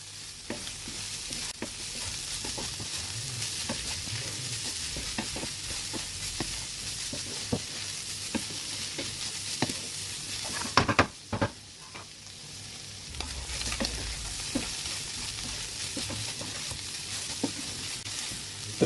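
Samosa filling with coriander, mint and spring onion frying and being stirred in a pan, a steady close sizzle broken by scraping spoon strokes, with a brief louder clatter partway through.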